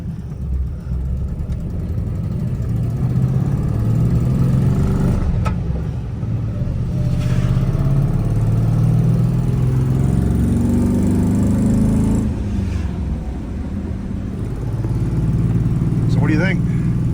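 A manual-swapped 2011 Ford Crown Victoria being driven up to speed, its engine droning steadily under road and wind noise with a slight stumble, while people inside talk over it.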